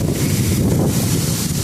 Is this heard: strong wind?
yes